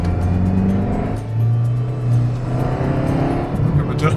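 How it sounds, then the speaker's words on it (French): A Peugeot 206 CC RC-Line car engine rises in pitch as it revs up to 6000 rpm, then holds a steady high drone, loud and close. "Le moteur qui prend 6000."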